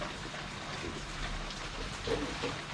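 Rain falls steadily outdoors, a soft, even hiss of drops with a few slightly louder patters, fairly faint and with no talk over it.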